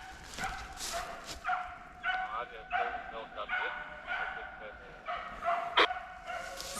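A hunting dog yips and barks repeatedly in a forest during a moose hunt, fairly distant, in irregular bursts while hunters talk nearby.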